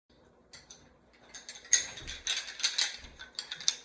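Small plastic Jenga pegs being pressed back into place: a quick scatter of light clicks and ratcheting snaps that grows busier and louder over about four seconds, heard close with no talking.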